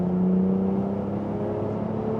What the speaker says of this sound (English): I've got a custom Overkill full turbo back exhaust, and it has completely transformed the sound of this car